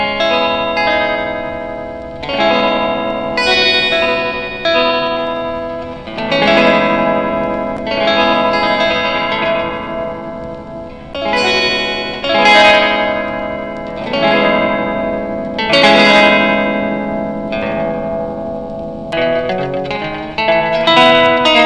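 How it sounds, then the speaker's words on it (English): Electric guitar played through a DIY DSP reverb pedal with a pitch-delay effect, loud chords swelling repeatedly into shimmering, pitch-shifted echo tails, with a fast run of notes near the end. "This one is like a pitch delay type thing."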